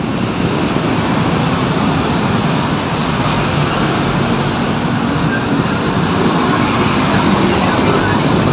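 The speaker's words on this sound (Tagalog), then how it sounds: "Traffic pare." Dense road traffic in Marikina, a continuous loud wash of engine and tire noise that holds steady throughout.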